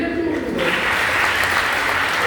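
Applause swells from a conference audience after a short pause, a broad steady wash of clapping that holds at a fairly loud level to the end.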